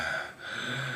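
A person imitates a dog's labored, effortful abdominal breathing with a short forced breath sound, a rough, airy exhale with a brief catch midway, close and fairly loud.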